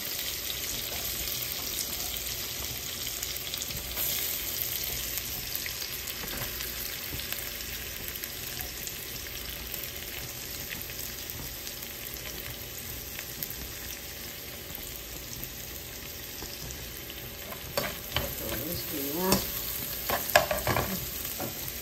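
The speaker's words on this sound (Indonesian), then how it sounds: "Kita tumis bawang merahnya" Shallots sauté in oil with a continuous close sizzle over a long stretch, joined near the end by clattering stirring and a few watery sounds.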